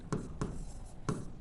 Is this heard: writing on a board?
yes